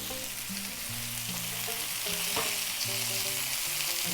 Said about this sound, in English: So we're gonna sear these on both sides if possible.